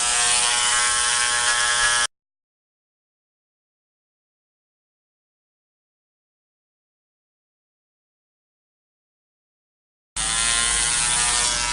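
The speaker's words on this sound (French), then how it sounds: "moi mon Dremel a plusieurs vitesses. Je mets la plus basse" A Dremel rotary tool running at its lowest speed to drill beads makes a steady motor buzz in two short bursts, one at the start and one at the end, with dead silence between them.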